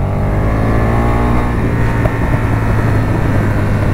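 Aprilia RSV1000R motorcycle engine running loud and close with a steady, throbbing tone that holds an even pitch and shifts slightly in texture midway, no voices.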